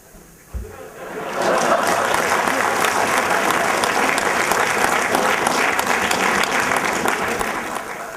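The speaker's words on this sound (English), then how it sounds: "It's all thanks to this kind of applause that we have reached that." Audience at a business school event with a film star breaks into applause: after a quiet start and a brief thump, dense clapping swells in and stays loud and steady, easing slightly at the end.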